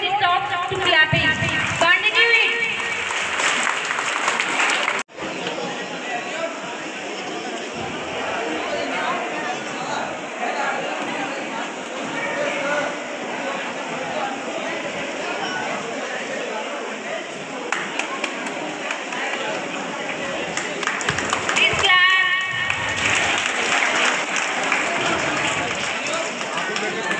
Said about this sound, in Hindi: please don't stop to clapping